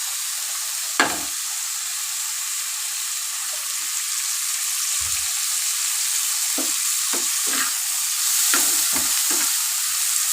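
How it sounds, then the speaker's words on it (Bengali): Small shrimp frying in a pan under a steady, bright sizzle, broken by scattered scraping strokes of stirring and no speech. "এবারে চিংড়ি মাছটাকে ভালো করে ভেজে নিলাম"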